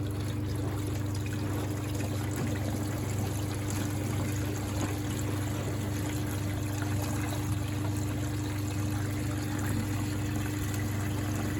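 A gallon of water pours steadily into a Bosch WFP3300 washing machine, a continuous even rushing trickle at close range with a low steady hum beneath, no talking.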